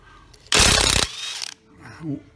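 A 21mm socket on a tool loosens a lug nut from the rear wheel of a Nissan Murano, one loud close mechanical burst followed by a shorter rattle and a fading tail.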